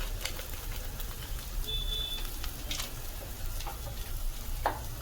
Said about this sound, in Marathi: एकत्र ढवळून घेऊया.